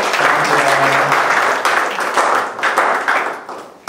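Congregation at a Sunday young-adults church service applauds to welcome returning and first-time members, a dense, steady crowd clapping filling the room at close range, with a faint voice underneath.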